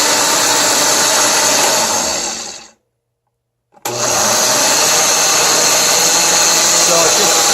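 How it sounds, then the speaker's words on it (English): A loud blender making a strawberry banana smoothie whirs steadily, cuts out abruptly for about a second, then roars back on at full power. "Now we got the mixer and everything in there. We're gonna hit the smoothie."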